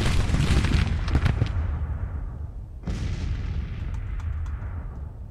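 Artillery battery firing in the Civil War strategy game Grand Tactician, two heavy booming cannon volleys with long rumbling decays, loud and close, with no voices.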